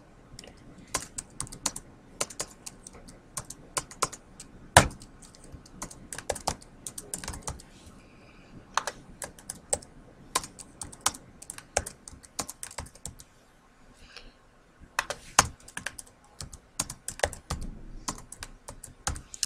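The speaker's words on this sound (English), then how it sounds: "she can start typing in typically 2 to 3 items for each section" Typing on a computer keyboard: rapid, irregular bursts of close, crisp key clicks with brief pauses between runs, continuing steadily throughout without any talking.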